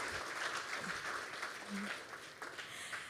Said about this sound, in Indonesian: Kita berikan tepuk tangan yang meriah untuk kita semua.